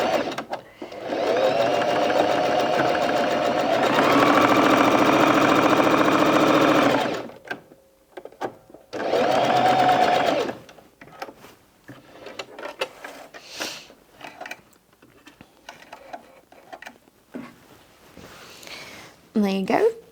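A Bernette 05 Crafter sewing machine stitches in a steady, close, loud run for about seven seconds, stops, then makes a shorter burst. Quieter handling noises follow, with some talk in between.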